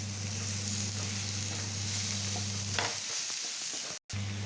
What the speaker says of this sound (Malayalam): അതിലേക്ക് നമ്മൾ അരിഞ്ഞു വെച്ച കോവയ്ക്ക ഇടുന്നു